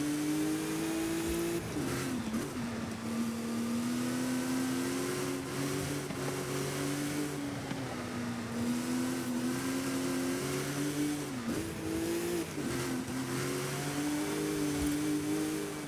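A modernized legend race car revving in Forza Horizon 5, its engine droning steadily and loudly with repeated dips and rises in pitch as it shifts, no voices.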